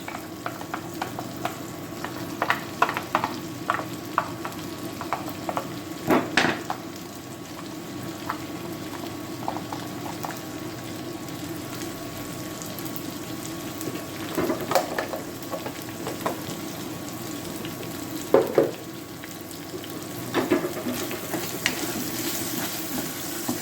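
Onions frying in a hot pan for a barbecue-bean pasta bake, a long steady sizzle broken by repeated scraping and clattering of a utensil stirring them, close by and with no speech.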